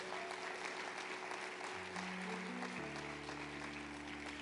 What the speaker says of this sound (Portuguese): Se coloque de pé, aplauda o Senhor bem forte